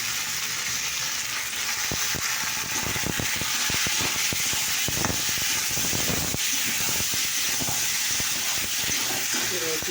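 Onion frying in a pan as ginger-garlic paste is added: a loud, steady hiss and sizzle throughout with rapid crackles and scraping from stirring, close up.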